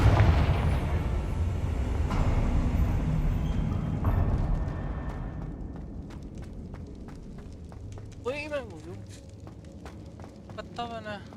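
A Confringo explosive spell in Hogwarts Legacy: a heavy booming blast with a long rumbling decay, followed by quieter game sounds and brief creature-like chirps near the end.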